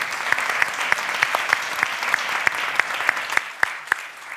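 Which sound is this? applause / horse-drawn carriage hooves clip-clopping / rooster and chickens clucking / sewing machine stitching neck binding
applause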